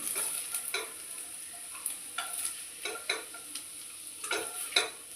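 Potatoes sizzle and fry in a pan for a potato curry, with repeated clicks of a spoon stirring and scraping against the pan over a soft, steady frying hiss.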